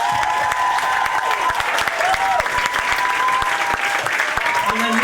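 An audience at a school Battle of the Bands applauds a band, with dense, continuous clapping that fills the room throughout, with faint voices mixed in.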